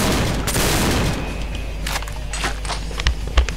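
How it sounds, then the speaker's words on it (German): A weapon in the Doom mod Project Brutality fires two shots at once with its primary button: a dense, loud burst of gunfire at first, then a few sharper, separate shots and booms. "Und mit der Primärtaste kann man immer zwei mit einmal schießen."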